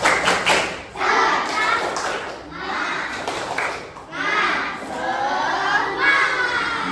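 A fourth-grade classroom of children in Indonesia chanting and clapping the 'tepuk semangat' clap together in rhythmic bursts, loud and lively with repeated group shouts and claps.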